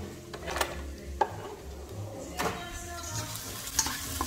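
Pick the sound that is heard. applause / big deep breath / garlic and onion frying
garlic and onion frying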